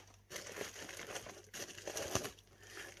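Packaging around hoya plant cuttings being unwrapped, heard as close, quiet crinkling and crumpling in several short bursts with no talking.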